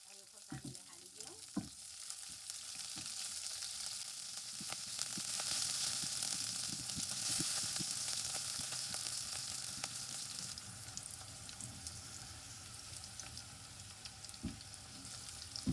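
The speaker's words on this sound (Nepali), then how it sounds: "हरियो खोर्सानी पड्काएर चाहिँ जिरा पड्काएर आलु तरकारी भुट्ने छु" Green chillies and cumin fry in oil for a potato curry, making a continuous, fairly quiet sizzle that swells slightly midway, with a few faint clicks and taps near the start.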